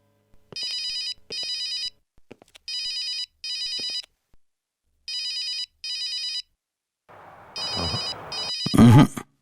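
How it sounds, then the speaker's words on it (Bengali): A telephone rings in repeated paired electronic bursts with silent gaps and goes unanswered, followed by a brief burst of noise at the end. "কেউ ফোনই ধরছে না।"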